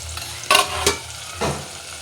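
Vegetables fry with spices such as turmeric in a pan, a soft steady sizzle broken by three brief scraping stirs of a spoon, close and moderately quiet, with no voices.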